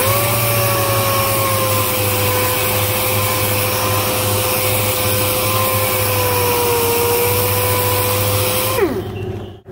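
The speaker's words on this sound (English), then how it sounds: "I'm going to DA it off with the 100 grit pad" A DA sander with a 100 grit pad works a custom motorcycle part, giving a loud steady whine that holds for several seconds and then winds down as it stops.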